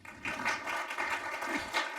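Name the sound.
audience applause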